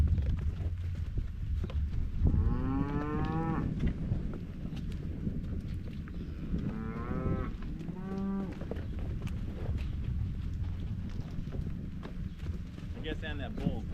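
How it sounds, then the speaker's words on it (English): Cattle being let out of a pen give several drawn-out moos at mid distance over steady wind and a low rumble, with occasional hoof and gate noises. "Now I want to let out the cows we're gonna sell."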